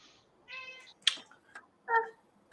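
A pet cat meows several times up close, a string of short, clear calls with brief pauses between them and no voices over them.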